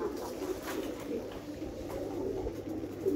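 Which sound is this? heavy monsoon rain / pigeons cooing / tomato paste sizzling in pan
pigeons cooing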